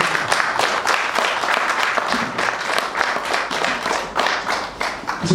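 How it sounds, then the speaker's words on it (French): An audience at a commemoration of Congolese immigration in Belgium applauds and cheers with dense, loud clapping that holds steady throughout. "Est-ce que vous pouvez acclamer pour vous-même?"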